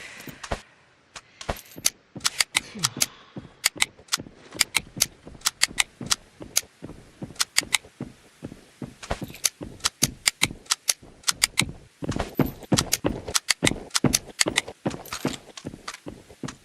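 Gun magazines being refilled in a shooter video game, a long run of sharp mechanical clicks and snaps as rounds are pressed in, irregular bursts with brief pauses, close and crisp.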